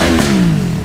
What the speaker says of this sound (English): On these loud motorcycles.